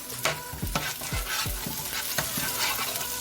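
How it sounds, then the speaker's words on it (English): Habanero pepper, garlic and ginger fry with onions in a pot for a coconut-milk chicken curry, a close, constant sizzle broken by repeated scraping strokes of a stirring spoon. "Allow it to fry."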